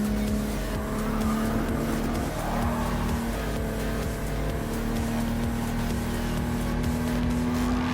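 Racing cars in Gran Turismo Sport, including a classic Jaguar E-Type sports car, roar steadily throughout with a sustained engine drone and a rising pitch as they accelerate. No one speaks.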